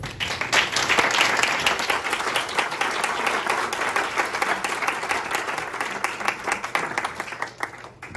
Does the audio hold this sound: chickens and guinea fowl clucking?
no